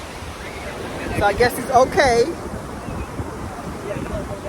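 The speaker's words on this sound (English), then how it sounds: "And it's very windy." Strong wind buffets the microphone at a beach, with ocean waves rolling and surging underneath, while a person speaks briefly partway through.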